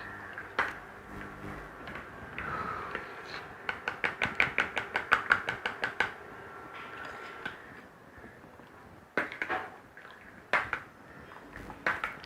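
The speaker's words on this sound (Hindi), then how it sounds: "तो इसको आपने बीट करते रहना है जब तक ये ठंडी ना हो जाए" A whisk or spoon beats a homemade cold cream mixture of oil and lotion in a bowl, giving a quiet run of quick, rhythmic clicking taps in bursts with pauses between.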